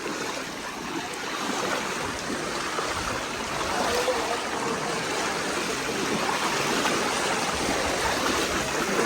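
Floodwater in Jamnagar rushes around a submerged house, car and auto-rickshaw after heavy rain, giving a continuous broad roar of flowing water that stays loud and steady throughout, with no one speaking.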